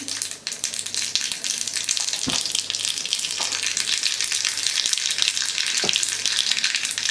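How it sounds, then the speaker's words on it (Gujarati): Dense crackling and popping of mustard seeds in hot oil, a continuous close sizzle with a few sharper snaps scattered through it. "આપણે રાઈ ઉમેરી અને તરત ફૂટવી જોઈએ"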